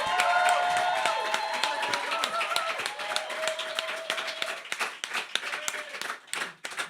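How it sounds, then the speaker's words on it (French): An audience claps in praise of the Lord at a youth conference, a dense burst of hand claps that thins out into scattered claps and fades over several seconds. "Nous acclamons pour le Seigneur."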